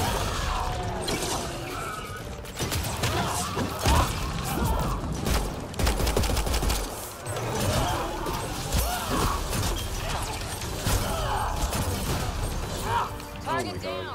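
Repeated gunshots in Mass Effect Andromeda, sharp close bursts of fire and mechanical clatter scattered through the clip, under a speaking voice that runs over much of it.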